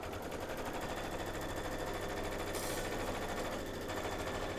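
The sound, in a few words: machine quilting on a sewing machine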